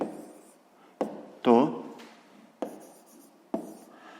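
A pen writes out a maths solution on paper, making a few short scratchy strokes and taps at a close distance, with a faint background hum and no clear talking.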